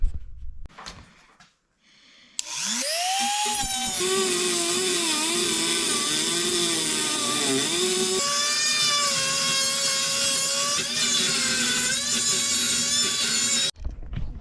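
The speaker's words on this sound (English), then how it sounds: "I don't know where my angle grinder is, so I'm using a Dremel" A Dremel rotary tool cuts through a metal suspension arm on a bagged BMW F80 M3, a loud, steady high-pitched whine with wavering pitch holding for about eleven seconds after a brief quiet start, then stopping abruptly.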